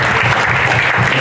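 Worshippers in a midweek church service clap their hands during praise and worship: a loud, dense, continuous burst of applause filling the space, with voices mixed in underneath.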